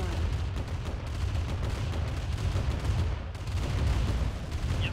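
Turret gunfire in the video game Command & Conquer Remastered: a dense, steady stream of rapid shots and dull booms rattles on for several seconds at moderate distance, with a brief lull partway through.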